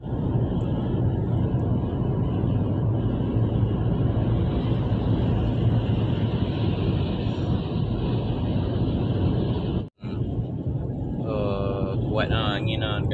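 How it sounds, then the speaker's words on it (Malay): Strong wind near an airport roars steadily into the microphone during a drive in a Volvo, a loud continuous buffeting broken by a brief dropout, followed by a faint navigation voice prompt. "Kuat angin dekat airport tu, dia kuat."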